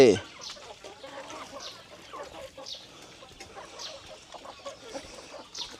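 Chickens cluck in short, scattered bursts close by while being fed grass clippings in an enclosed farm pen, with a brief louder knock at the start.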